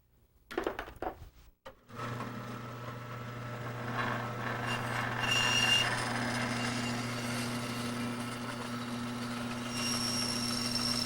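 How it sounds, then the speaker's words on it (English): A bandsaw cuts laminated longbow wood, a steady loud whine with the grinding rip of the blade through the stock running continuously after a few brief knocks at the start, with a thin high tone rising near the end. "And I am ready to take this to the bandsaw. Make some of these cuts."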